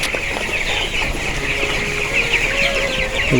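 Poultry chickens in a shed with freshly changed litter during hot weather, a steady dense chorus of clucking and murmuring from many birds, fairly close and continuous with no talk.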